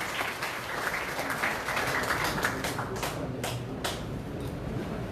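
Applause from an audience at a Korean political party provincial chapter chair inauguration, during an appointment certificate ceremony: steady dense clapping fills the clip at moderate level, with a few sharper claps standing out near the end.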